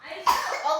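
A child gives a single short, sharp cough after eating ice cream, heard close and alone.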